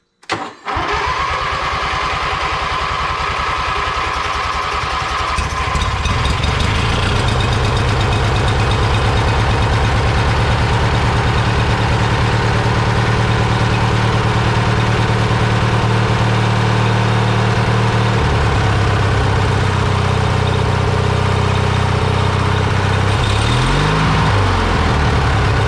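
An engine cranks and catches, then settles into a steady, loud idle while warming up, its rumble shifting in pitch partway through and wavering near the end, with no voices over it.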